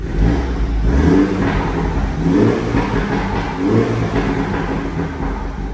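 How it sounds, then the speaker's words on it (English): A Mini John Cooper Works hatchback revs repeatedly with its exhaust valves open in track mode, loud and rising and falling in steady surges, close and dominant with no voices. "the exhaust note will immediately change, and we can go ahead and open all the valves in the exhaust system"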